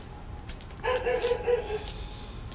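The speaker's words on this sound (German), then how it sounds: "wenn die Hunde bellen und alles" Dogs bark in a quick run of several yaps on a street off Sukhumvit Road in Bangkok, fairly close and clear, while faint traffic and city noise murmur in the background.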